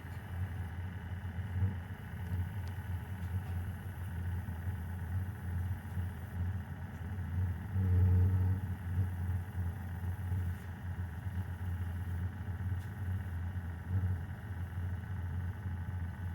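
A diesel heater beginning to fire gives a faint, low, steady rumbling hum, with one brief swell partway through and no speech.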